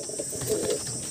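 A Kaldom pigeon in a loft of Madrasi pigeons gives a short, soft low coo, close by, with a faint steady hiss behind it.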